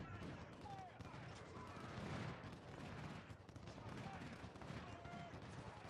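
Massed infantry musket volleys in the Civil War video game Ultimate General Civil War, with 24-pound howitzers also in play, form a continuous faint crackling roar of distant gunfire under a voice talking throughout.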